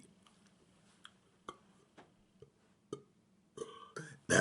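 A young man burps his way through the alphabet, a string of short, separate belches spaced about half a second apart, the last few louder and longer.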